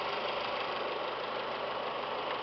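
A 2012 Fiat 500 Pop's 1.4-liter single overhead cam 16-valve MultiAir four-cylinder idles steadily, a constant close engine drone with a faint low pulsing and no voices.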